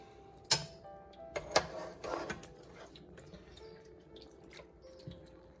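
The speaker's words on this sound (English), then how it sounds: "we're going to catch any whey that I bring along with the cheese." Whey dripping from freshly made homemade mozzarella in a kitchen: a few soft, sharp drops and light splashes, sparse and close, over a quiet room background.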